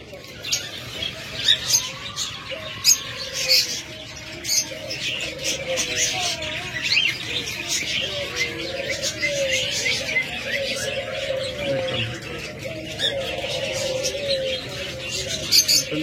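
Caged budgies, cockatiels and diamond doves at a bird shop keep up a dense, busy chatter of chirps and tweets with soft cooing, while someone talks over them throughout.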